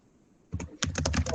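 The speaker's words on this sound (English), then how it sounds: "I think we can hear your keyboard a little bit." Computer keyboard clatter in a quiet room: a short burst of rapid keystrokes, fairly close and distinct, with no talking over it.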